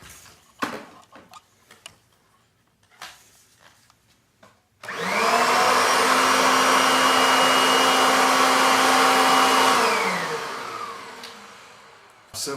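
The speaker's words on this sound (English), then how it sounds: "When you add the hose, you add a little bit of distance to it. I'm going to put the hose on here." A Kirby vacuum cleaner with its hose attached whirring up from a few faint clicks into a loud, steady high-pitched motor whine that holds for several seconds, then winds down.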